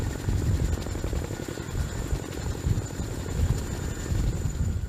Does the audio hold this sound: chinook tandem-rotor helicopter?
yes